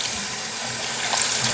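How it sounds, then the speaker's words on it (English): Warm water runs steadily from a tap, a continuous close hiss and splash with no voices, as a cloth is dampened during household cleaning. "I'll just do like a damp cloth, warm water"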